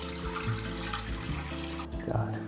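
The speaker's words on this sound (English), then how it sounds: "I'm gonna have to pour this makgeolli into this pot." Makgeolli, a Korean rice wine, splashes and trickles steadily into a pot at close range for a couple of seconds.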